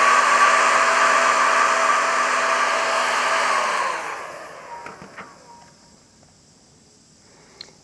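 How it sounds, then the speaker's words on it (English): A heat gun shrinking heat shrink tubing while building a racing drone, blowing a steady loud hot-air roar for about four seconds before it cuts off, leaving faint handling clicks and taps. "use the heat gun to shrink it down"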